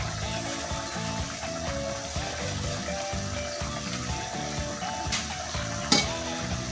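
Fish sarciado is stirred in a pan over steady frying sizzle, with repeated scraping strokes of the spoon in a loose rhythm and a sharp clink near the end, close with no talk.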